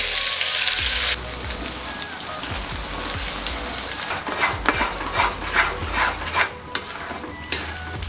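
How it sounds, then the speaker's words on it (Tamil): Coriander thokku chutney with halved dried red chillies being stirred in a hot pan, giving a steady low sizzle with repeated scraping strokes close by, no voices. "இந்த சட்னி சட்டியில் ஒட்டாமல் நல்லா அப்படியே சுற்றி வருது பாருங்கள்."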